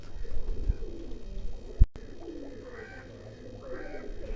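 Pigeons in a loft at 13 Chak Bhalwal coo softly in low, murmuring phrases, with a single sharp thump partway through and faint background rustle.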